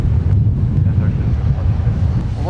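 Strong wind blows across a microphone at Minneapolis–St. Paul airport, a loud continuous low rumble and buffeting with faint distant sounds underneath.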